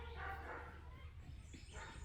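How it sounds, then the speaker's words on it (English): A dog barks and yips faintly somewhere in the background, with a few distant, muffled calls over a low steady room noise. "So sorry about that dog. I don't know. I can't keep it quiet."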